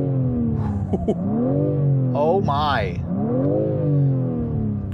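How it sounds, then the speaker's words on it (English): A 2022 BMW M3 Competition xDrive six-cylinder engine in M mode revs up and winds down through rising and falling pitch sweeps, loud and close, with a brief exclamation from a person midway. "The six-cylinder engine, as I put it into its M mode here, you can hear it"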